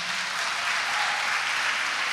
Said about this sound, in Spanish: Date un aplauso a ti mismo.